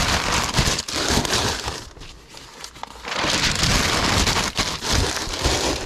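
Loud, close crinkling and rustling of packing paper being crumpled and laid down as a bed in a shipping box, in dense bursts with a brief quieter pause midway.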